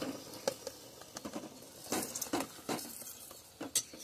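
Rain falling outdoors at a village kitchen while gulab jamun is cooked, heard as an irregular patter of close drops and splashes, some sharp and loud, scattered over a quieter background.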